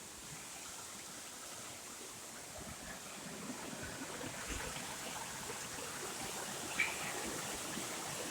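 A stream swollen after heavy rain, overflowing its banks slightly, rushes steadily along a trail near cabins, making a continuous soft broadband roar of flowing water, distant and even, with no voices.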